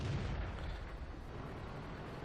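An IS2 tank cannon firing in World of Tanks, heard as a heavy, rumbling boom that trails into a long low roar, loud and dense with no voice over it.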